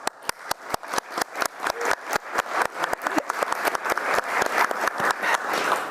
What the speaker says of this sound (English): Thanks again for the big applause